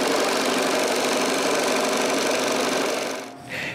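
A saw cuts the traced nose shape for a wooden nutcracker, producing a close, dense, steady buzzing drone that cuts off abruptly near the end.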